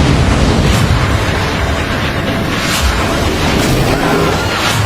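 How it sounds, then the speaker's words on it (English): An explosion from the film Deep Blue Sea 2 fills the clip with a loud, dense, continuous roaring rumble that never lets up. "It's exploding! We're losing pressure."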